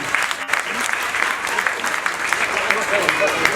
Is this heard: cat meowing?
no